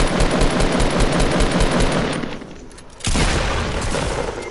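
Rapid automatic gunfire in the video game Fortnite, dense bursts of shots that pause briefly midway and then resume loud and close, with no talking over them.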